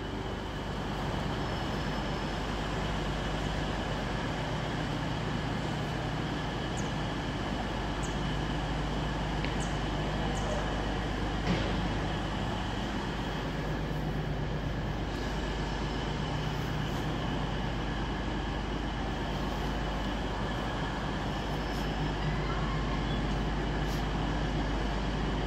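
A Cross Country diesel service departs Nottingham station, a steady low rumble of engine and rolling stock dominating throughout with faint station ambience, close and continuous.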